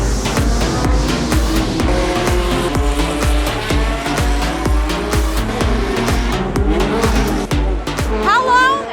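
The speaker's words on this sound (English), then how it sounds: "How long have you been sitting here listening to the engine?" IndyCar race cars at the Grand Prix of Long Beach roar past in quick succession, loud repeated engine passes with sharp rises and falls, while people talk underneath.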